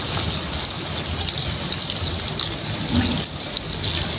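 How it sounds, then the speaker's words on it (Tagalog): Water runs steadily from a kitchen tap into a sink or pot while corned beef and taro are being cooked, a continuous close hiss with no talking. "Tubig"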